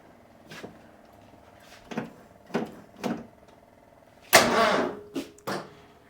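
Car engine cranking without starting after a failed break-in, in several short separate bursts of starter churn, with a longer, louder attempt near the end.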